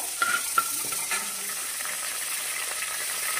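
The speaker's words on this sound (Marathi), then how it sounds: "आता फोडणीला मी जिरा आणि कढीपत्ता टाकलाय" Cumin seeds and curry leaves spit in hot oil for a tempering, a steady close sizzle with a few sharp crackles and pops early on, no talking.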